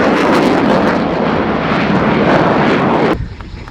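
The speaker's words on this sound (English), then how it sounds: "completing his sequence, Flight Lieutenant Jim Peterson with the Eurofighter Typhoon FGR-4" A Eurofighter Typhoon FGR-4 jet roars loudly in a flying display, a sustained, dense full-power thunder that cuts off sharply near the end, leaving a faint distant rumble.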